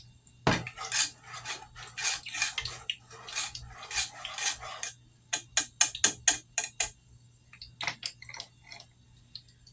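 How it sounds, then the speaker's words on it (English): A spoon clinks and scrapes against a pot while homemade caramel is stirred, making a run of sharp, close metallic taps in an irregular rhythm with brief pauses between. "And I have my caramel that I made. Stirring it up a little bit here."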